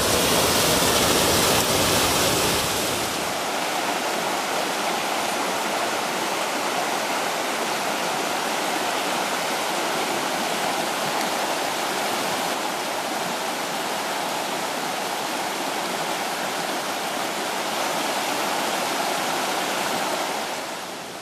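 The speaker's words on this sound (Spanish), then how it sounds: "Vaya guapo chorrón, ¿eh?" A small waterfall on a river in the Muniellos forest roars steadily and loudly, a dense broadband rush of falling water that holds constant throughout with no voices.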